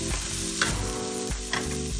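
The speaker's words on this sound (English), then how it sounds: "Then mix. Cook until the onion is translucent" Onion and carrot sizzle steadily in a hot pan for a cottage pie, a continuous close frying hiss with a few scraping stirs of a utensil through the vegetables.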